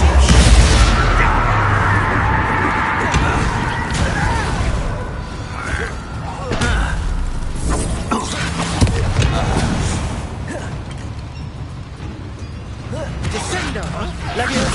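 Spell explosions and crashing impacts in Hogwarts Legacy combat, with loud repeated booms and debris clatter over a busy music and effects bed.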